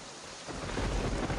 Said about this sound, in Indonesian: di luar sedang turun hujan